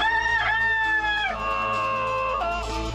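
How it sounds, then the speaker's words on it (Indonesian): A rooster crows loudly and close, a long drawn-out call that breaks and falls in pitch partway through, alone over a faint low background hum. "Suruh ayam lu berhenti memperdengarkan suara yang fasik"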